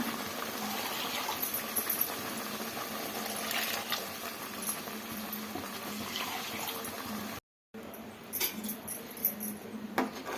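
Water sloshes and splashes inside a mixer jar while it is rinsed, with a few light clinks and a brief break in the middle.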